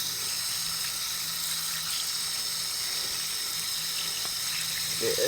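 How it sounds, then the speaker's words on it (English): Water from a tap rinses a freshly butchered quail, a steady hiss and trickle running throughout, with a slight surge of splashing at the very end. "you basically just want to rinse it off to get all the rest of the feathers, everything else off of it."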